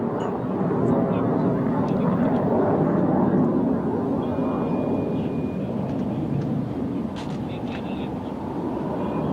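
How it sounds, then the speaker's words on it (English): A military jet dives at an air show during the Pakistan Army Raad al Barq 2016 demonstration, and its loud engine roar fills the air throughout while an announcer speaks over it. "shortly the third aircraft will be in dive, and here it comes"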